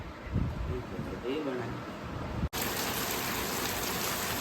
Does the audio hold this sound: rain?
yes